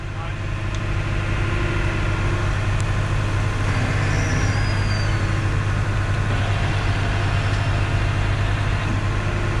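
A truck idling in reverse during a winch-out amid Hurricane Ian gives off a loud, steady, unbroken low engine rumble with constant mechanical drone throughout.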